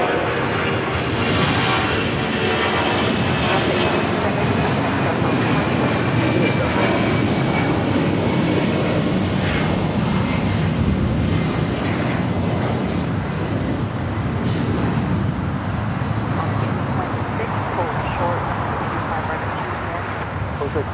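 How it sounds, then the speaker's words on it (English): A Delta Boeing 757 takes off from the south side of Los Angeles International Airport, a loud, sustained jet engine roar that stays steady and close while a voice talks over it. "Do have a Delta 757 now taking off here on the south side."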